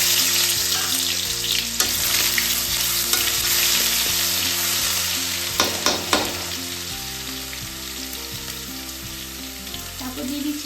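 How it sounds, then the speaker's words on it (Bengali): Garlic paste sizzling in hot oil in a pan, a dense continuous frying hiss with a few stirring scrapes and spatters, close and steady throughout. "প্রথমেই আমি তেলের উপরে দিয়ে দেবো একটু রসুন বাটা"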